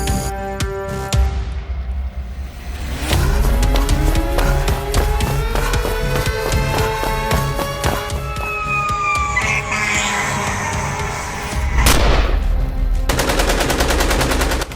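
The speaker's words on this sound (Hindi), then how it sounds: "दहशतगर्द ने आगे बढ़कर शदीद फायरिंग की।" Loud, sustained rapid gunfire from a re-enactment of the June 2014 attack on Karachi airport rattles in dense bursts, layered with rising, wailing sirens and sharp cracks throughout, with no talking.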